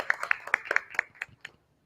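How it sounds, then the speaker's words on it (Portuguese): A few people clap sparsely for a museum director at a national museum archive event, about a dozen uneven claps over a second and a half that trail off into silence. "até peço uma salva de palmas para ela."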